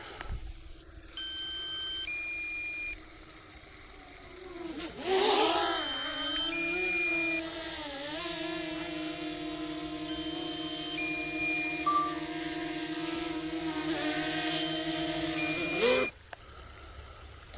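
Repeated short electronic warning beeps from a drone's low-battery alert, sounding in spaced bursts over a steady mechanical hum outdoors beside a fishing spot.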